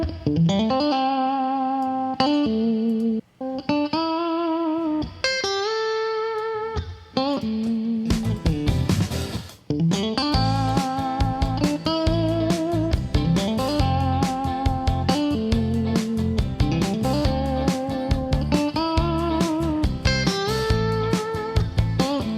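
Guitar amp recorded through a Thermionic Culture Vulture adding drive: a sparse clean-toned guitar phrase opens, then a dense driven band track with rapid strummed and picked guitar, loud and continuous with no talking.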